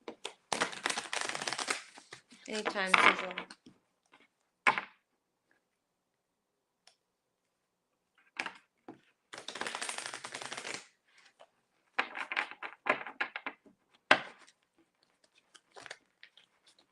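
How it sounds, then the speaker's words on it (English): Tarot cards are shuffled in quick, papery bursts of riffling and slapping, separated by pauses. Short spoken words come in between. "let me shuffle these cards really quick"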